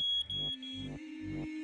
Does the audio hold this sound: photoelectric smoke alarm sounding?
yes